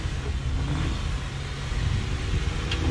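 Jeeps fitted with 1-ton axles and large tires crawling over rocky off-road obstacles at Easter Jeep Safari in Moab, a loud, steady, low engine rumble throughout with no talking.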